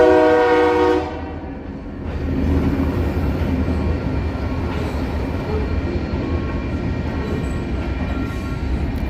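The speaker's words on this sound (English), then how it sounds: "Union Pacific Railroad." A Union Pacific Railroad train horn sounds loud and close for about a second with layered harmonic tones, then the heavy rumble and rolling clatter of the passing cars carry on steadily.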